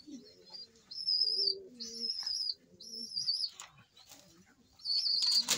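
A racing pigeon coos softly in repeated low phrases close by, mixed with brief wing flaps and faint background chirps.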